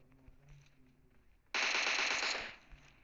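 Automatic gunfire from PUBG Mobile erupts in a loud, rapid burst lasting about a second, following quieter in-game background noise and a few muffled thumps.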